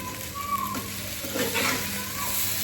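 Vegetables and egg that were fried earlier go back into a pan for a chirra pulao breakfast, giving a steady soft sizzle with a few stirring scrapes and no talk.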